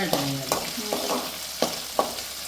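Onions and spices fry in a pan for a Tamil Nadu garlic-pepper tamarind curry, giving a steady close sizzle broken by a few sharp taps and scrapes as a spoon stirs them.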